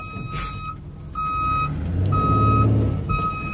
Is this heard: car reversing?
yes